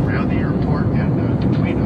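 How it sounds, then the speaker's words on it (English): Steady, loud roar of an American Airlines passenger jet cruising over the Atlantic Ocean, heard from inside the cabin as a continuous broadband drone. "We're flying over the Atlantic Ocean right now."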